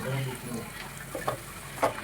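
Oil sizzles steadily in a pan as a tempering is made, a soft constant crackle with a few brief stirring scrapes, fairly quiet.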